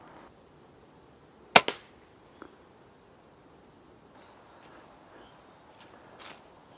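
A single sharp rifle crack rings out while the scope is zeroed on a heat pack target. A brief echo and a faint later tick follow it, then quiet outdoor background.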